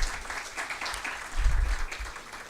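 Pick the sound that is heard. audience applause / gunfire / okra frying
audience applause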